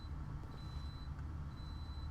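An electronic timer beeps to signal that rice has finished cooking, a thin repeated tone heard twice in the distance over a steady low rumble.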